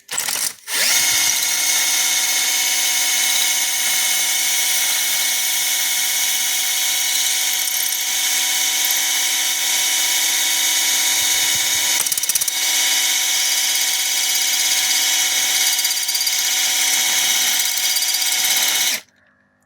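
An electric drill on its second speed runs a hone inside a Volvo B4204T35 engine cylinder bore with a little water, a steady high whine grinding continuously at close range before stopping.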